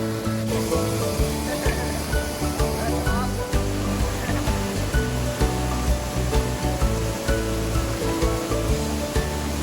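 Pala-U waterfall, a constant broad rush of falling water, loud and close, steady for the whole stretch with no pauses or voices.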